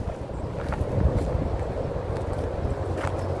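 Strong wind on a blustery day in an outdoor onion garden buffets the microphone in a continuous low rumble that swells and eases, with no voices over it.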